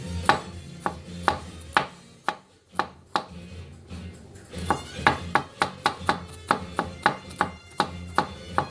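A knife with a purple G10 handle chops garlic on a cutting board in a rhythmic series of sharp, close knocks, with a short pause before a quicker, steady run of cuts.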